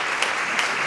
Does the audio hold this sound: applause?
yes